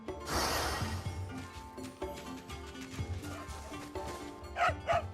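In Fate/Samurai Remnant, a dog being petted gives a couple of short, close yips near the end, after a soft rustle and a quiet musical game soundscape.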